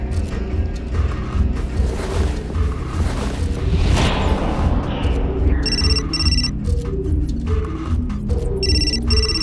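Phone ringing in the Still Life 2 video game, repeated bursts of electronic ringtone in the second half over a steady low rumbling mechanical ambience, no speech.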